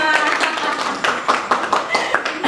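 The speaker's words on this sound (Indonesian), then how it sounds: "Tepuk tangan untuk semua." Students in a classroom clap their hands in a quick, uneven patter of claps, with voices chattering under and around the clapping.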